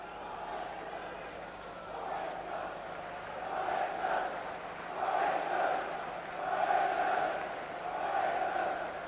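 Football crowd at Selhurst Park during an FA Cup replay between Wimbledon and Wycombe Wanderers, a modest attendance with many travelling fans, producing a steady broad roar that swells in waves of chanting.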